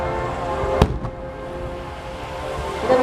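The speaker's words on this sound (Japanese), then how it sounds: "大会お得意の花札花火大会だけで楽しめるこの素敵な水中花火" Underwater fireworks set off from a boat at the Kamakura fireworks festival finale: one sharp, loud burst followed by a fainter second pop over a steady rumbling crowd-and-water background.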